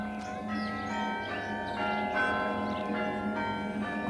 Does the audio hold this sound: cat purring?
no